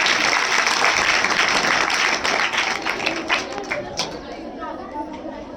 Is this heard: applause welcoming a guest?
yes